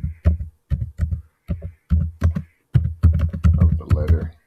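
Computer keyboard typing in a run of separate keystroke bursts, close and moderately loud, with short gaps between clusters and denser rapid clatter toward the end; no talking.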